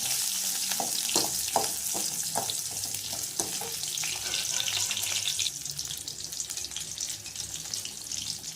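Onions sizzle and fry in a pan for Malayalam kottu, a continuous crackling hiss with stirring clinks and scrapes, steady and close throughout.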